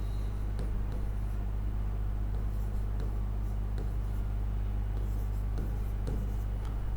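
Writing out matrix elements by hand during a maths lesson, with faint scratchy strokes coming and going under a loud, constant low hum.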